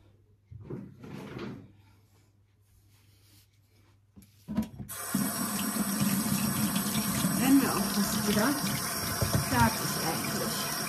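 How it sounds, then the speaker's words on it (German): A kitchen tap turns on and water runs steadily for hands being washed, close and fairly loud, after a few quiet knocks and bumps. "Hände waschen."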